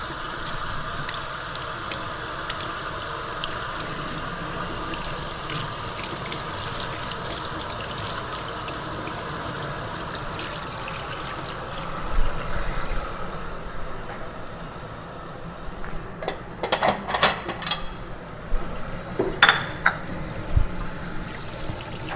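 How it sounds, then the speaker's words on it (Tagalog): Hot water poured at home to steep a herbal cough remedy, a steady gush and trickle that runs throughout, with louder splashing bursts near the end. "Lagyan ko siya ng mainit na tubig."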